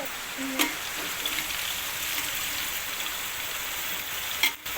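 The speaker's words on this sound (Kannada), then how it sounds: "ಆಯಿಲ್, ಪಲಾವ್ ಐಟಮ್ ಮತ್ತು ಈರುಳ್ಳಿ ಹಾಕ್ಕೊಂಡಿದ್ದೀನಿ. ಅದು ಫ್ರೈ ಆಗಬೇಕು" Onions with pulao spices frying in oil in a pan give a steady, close hiss and sizzle throughout, broken by a couple of brief stirring knocks.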